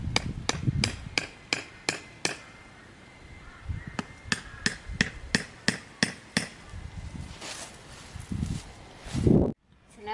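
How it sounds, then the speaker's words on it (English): Fence stakes are hammered into the ground outdoors for a Halloween yard fence, with quick bursts of sharp, hollow wooden knocks in runs of several strikes and short pauses between. "just hammer them in so they're nice and steady, nice and firm."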